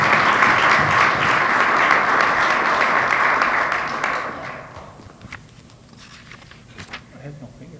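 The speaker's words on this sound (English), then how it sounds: "let's give him a round of applause" A crowd at a chamber of commerce annual meeting claps loudly for a few seconds, then the applause fades to scattered claps and light room noise.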